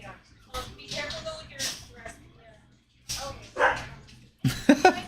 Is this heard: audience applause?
no